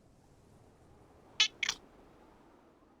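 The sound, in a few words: old cat meowing, almost a scream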